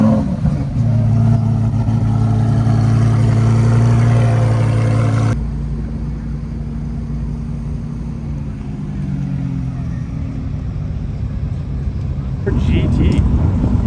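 A car engine revs hard at a car show, a loud sustained roar that drops off abruptly partway, then picks up again amid crowd noise and people talking.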